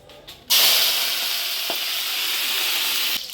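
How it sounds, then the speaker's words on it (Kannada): Dry red chillies drop into two or three spoons of hot oil for North Karnataka style spicy puffed rice: after a brief rustle, a loud, close, continuous sizzle bursts in and holds steady to the end. "ಎಣ್ಣೆ ಒಣ ಮೆಣಸಿನ್ಕಾಯಿ ಹುರ್ಕತ್ತೀವಿ"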